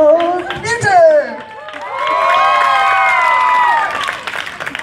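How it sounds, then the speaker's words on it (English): A school sports day crowd cheers and claps after an egg and spoon race, with a short burst of whoops and voices followed by steady, loud applause and cheering that lasts several seconds. "big cheer for the boys, well done."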